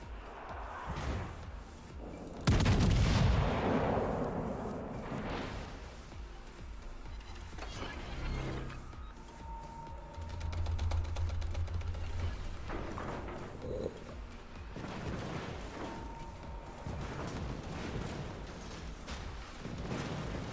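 Naval guns fire in World of Warships, a heavy boom near the start and then scattered duller thuds and rumbles, with engine and sea noise underneath over a long stretch of battle.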